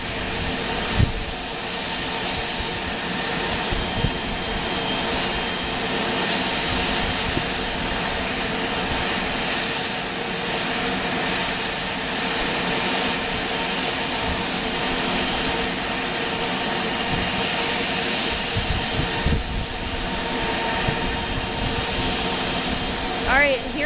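A loud jet aircraft engine runs steadily at Aurora Municipal Airport, a continuous broad roar with whining tones that holds at constant volume for the whole stretch, with no voices over it.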